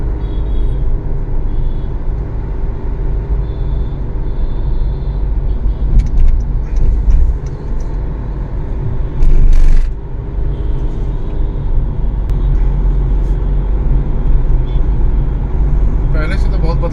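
Steady road traffic rumbles across the Digha overbridge in Patna, a dense drone of cars, buses and trucks with an occasional air-brake hiss and horn, heard loud and close throughout.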